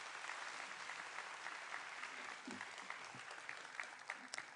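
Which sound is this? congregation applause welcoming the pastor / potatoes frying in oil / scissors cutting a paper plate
congregation applause welcoming the pastor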